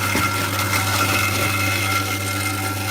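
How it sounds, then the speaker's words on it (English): A Spiedel apple mill grinds apples in a steady, loud mechanical whir with rough crunching texture, running continuously and up close. "for the purposes of this demonstration, I am only milling 7 or 8 apples"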